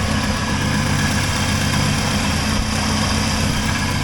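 A 1980 Triumph TR7 engine, which has an exhaust leak, idles at about 950 RPM close by. The rumble is steady and even, with no voices over it.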